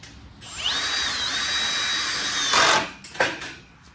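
A power drill fitted with an Allen key bit whirs steadily at close range for about two seconds, winding down with a rough stop, followed by two short clunks and bursts.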